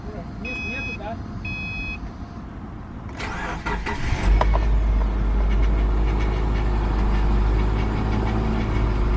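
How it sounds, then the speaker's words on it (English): A Subaru Forester's engine, just after a power steering pump replacement, cranks and catches partway through, then settles into a loud, steady idle; before it starts, warning chimes sound and a person talks. "Just about to start the car"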